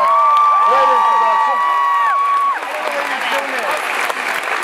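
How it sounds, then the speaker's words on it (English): Crowd at a political speech rally claps and cheers loudly, with whoops and shouts riding over the dense applause before it thins slightly toward the end. "round of applause for that"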